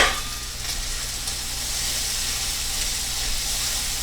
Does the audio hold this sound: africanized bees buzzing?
no